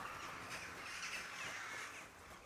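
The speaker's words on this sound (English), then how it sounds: "What a crispy sound of birds flying away" Birds flying away in the medieval game Kingdom Come: Deliverance II, a short burst of harsh crow-like caws and flutter at moderate distance, fairly faint and continuous for a couple of seconds.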